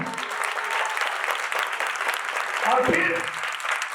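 A church congregation applauds through a sermon, a steady, fairly loud wash of clapping that swells briefly near the end.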